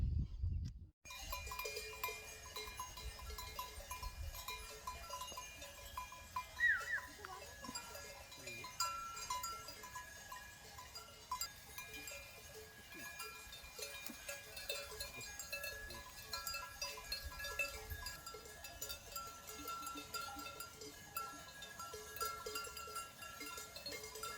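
A flock of sheep wearing bells grazes on a mountain route near Yaremche, with scattered bell clinks and occasional bleats mixed in a steady, faint outdoor hum.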